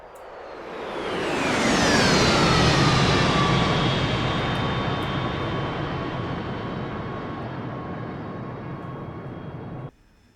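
An AV-8B Harrier jet engine in the DCS flight simulator swells into a loud, steady roar with a high whine that slides downward, holds for several seconds and then cuts off abruptly.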